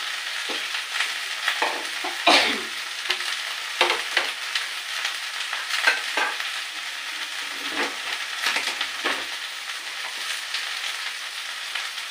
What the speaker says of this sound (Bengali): এটাকে আস্তে আস্তে নাড়তে হবে আর এটা কষিয়ে নিতে হবে।